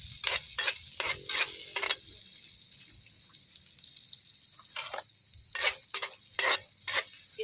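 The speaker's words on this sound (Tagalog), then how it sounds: "Gisa-gisa lang natin." Vegetables are sautéed in a pan on a farm, with repeated bursts of stirring and hissing scrapes in quick groups, separated by quieter pauses under a faint steady background.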